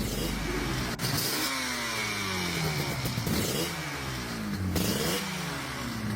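A 1976 Yamaha RD400 air-cooled parallel-twin two-stroke motorcycle revs hard and close, its rising and falling engine pitch sweeping up through several gear changes under a steady rasping drone.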